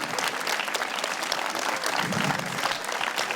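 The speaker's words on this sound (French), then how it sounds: "on peut l'applaudir bien fort" Steady applause from a crowd at a dance competition awards ceremony as a dance school is honoured, dense continuous clapping at moderate distance with faint murmurs underneath.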